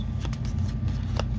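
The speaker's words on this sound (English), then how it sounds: "We'll just do a little shuffling here." Playing cards for a tabletop baseball card game are shuffled up close, a few quick riffling flicks and soft slaps over a low background hum.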